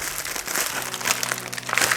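A plastic US military ration pouch crinkles and tears open up close, a steady loud rustle with sharper crackles throughout.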